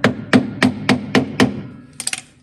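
A hammer taps a spider dolly toggle into place with six evenly spaced metallic knocks, close and loud, followed by a quick cluster of lighter taps.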